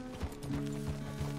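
Horse hooves clip-clop at a steady walking rhythm across the ground in the Red Dead Redemption 2 video game, fairly close and moderately loud under a low ambient hum.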